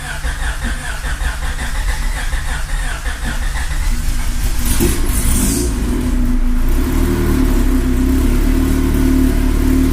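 A Honda Civic with a turbocharged GSR engine cranks on a cold start, catches and settles into a rough idle with some revving, loud and close with a whining cry while cranking.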